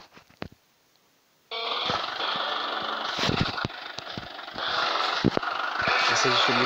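A minibus engine in a mobile driving simulator game runs steadily at moderate volume after a short quiet start, with a few sharp clicks and knocks over the continuous hum.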